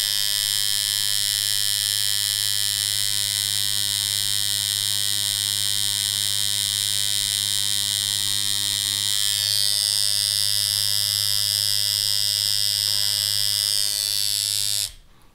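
A JDMFG Anvil MK1 rotary tattoo machine runs steadily on practice skin, giving a close, even electric buzz with a constant low hum and a slight shift in tone partway through before it stops abruptly.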